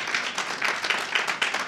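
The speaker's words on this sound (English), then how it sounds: "Let's give her a round of applause." An audience at an outdoor sickle cell awareness illumination ceremony claps in brief applause, a steady patter of many hands, moderately loud, with no voices.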